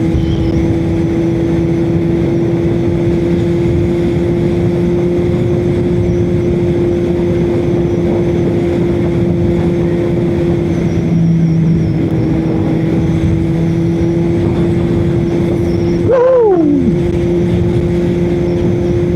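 A Kawasaki Z900 motorcycle cruises at a steady engine note with wind rush, then near the end the pitch sweeps sharply downward as it shifts into sixth gear, loud and close.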